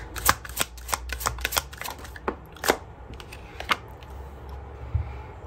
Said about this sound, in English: Let's grab another card here.